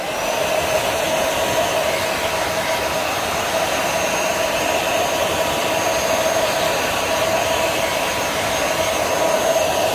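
A hair dryer blows steadily on hair treated with a straightening perm, a loud, even whooshing drone that holds unbroken for the whole stretch, with no talking.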